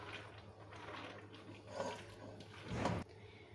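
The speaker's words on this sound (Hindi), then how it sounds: "अब मैं इसमें 1/2 ग्लास पानी और डाल रही हूँ" Half a glass of water poured into a pot of beef and chana dal, a soft splashing pour with a louder burst near the end, quiet and close.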